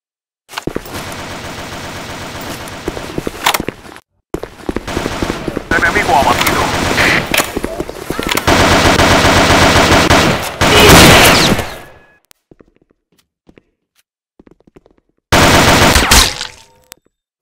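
Sustained automatic weapon fire in the online shooter Operation 7, dense rapid bursts running loud for several seconds, a short gap, then a final burst after a silence.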